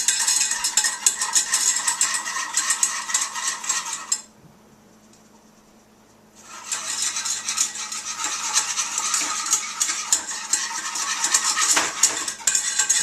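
Flour being stirred into melted margarine in a pot, a utensil scraping and clinking steadily against the metal, pausing for a couple of seconds midway before resuming with continuous scratchy stirring.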